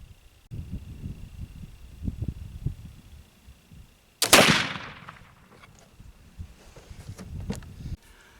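A single loud black powder rifle shot fired at a range, a sharp close blast with a long decaying tail, preceded by low rumbling handling noise and followed by quieter movement.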